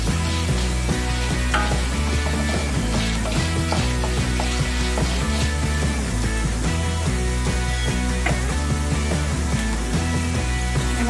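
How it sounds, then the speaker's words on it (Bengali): Lentils frying in a pan while being stirred, a steady loud sizzle with scraping, alongside background music that runs without a break. "ডালগুলো ভালো করে ভেজে নিতে হবে যতক্ষণ না গন্ধ বেরোচ্ছে"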